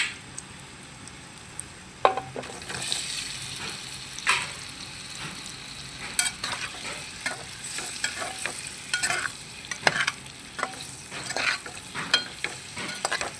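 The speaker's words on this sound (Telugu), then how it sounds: "ఇలా వేయించుకోవాలి ఇప్పుడు బంగాళదుంపలు కూడా వేద్దాం" Potatoes fry in a pan with onions, giving a steady soft sizzle. Repeated sharp scraping strokes from stirring break in at irregular intervals, close and fairly loud, with no talking.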